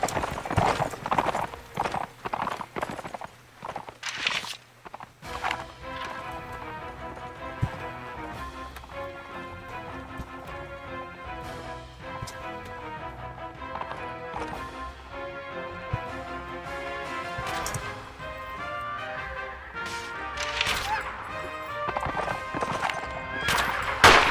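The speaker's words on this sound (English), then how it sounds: "Very fast horse." Rapid, steady hoofbeats of a galloping horse in a video game clatter on alongside game music and effects, with a brief whinny near the start.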